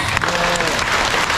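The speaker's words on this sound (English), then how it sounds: "come on, clap your hands." A group of people clap their hands together on an ocean adventure trip, a loud, dense, sustained burst of clapping with a bit of crowd noise mixed in.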